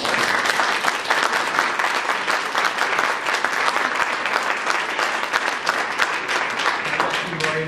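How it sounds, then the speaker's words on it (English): An audience applauds a panel in a continuous, loud burst of clapping that holds steady throughout, with a faint voice briefly beneath it near the end. "I'd like to ask you all to give them a nice round of applause."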